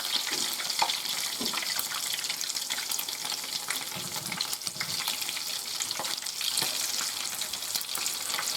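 Fish fillets, cod and salmon for blackened tacos, frying in hot oil in a pan, giving a steady dense sizzle with scattered crackles and pops, close, with no talking.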